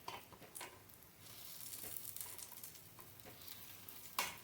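Ponganalu frying in a non-stick pan, a soft steady sizzle with scattered clicks and scrapes of a spoon turning them, ending in one sharper tap.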